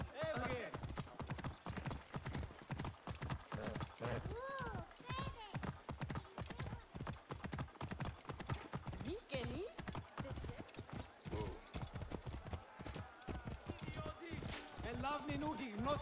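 Horse hooves pound in a quick, continuous gallop rhythm in Assassin's Creed Origins, loud and near, with occasional whinnies and a voice speaking over the steady clip-clop.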